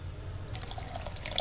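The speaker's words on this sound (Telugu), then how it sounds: "దీనిలో వాటర్ యాడ్ చేస్తున్నాను," Water is poured into a mixer jar holding chopped beetroot and two green chillies, giving a soft, steady trickling and dripping close by, with small splashes toward the end.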